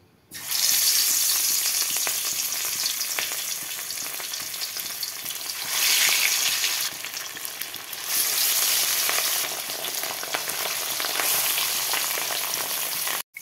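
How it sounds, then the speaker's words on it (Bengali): Loud, continuous sizzling of katla fish frying in hot oil in a wok, close by, with surges of crackle as pieces are added or moved. "কড়াইতে তেল দিয়েছি, তেলটা গরম হয়ে গেছে। আমি এবারে মাছগুলো দিয়ে দেব।"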